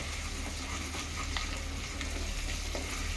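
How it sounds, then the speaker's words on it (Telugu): Ingredients for egg biryani frying in a pan with chilli powder, a steady close sizzle running throughout with occasional stirring scrapes, no voices. "ఇవన్నీ ఫ్రై చేసుకోవాలి మంచిగా"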